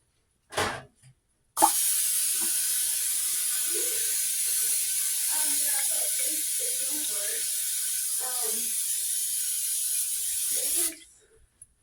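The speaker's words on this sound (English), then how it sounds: "I like to spray my pan real good." A short click, then a long continuous hiss of butter-flavored aerosol spray coating a pan for fish, lasting several seconds, close up, with faint clattering underneath.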